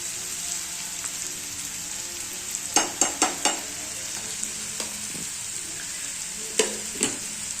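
Onion frying with salt in a pan, a steady hiss close by, punctuated by a quick cluster of sharp spoon taps and scrapes partway through and a couple more near the end, with no talking.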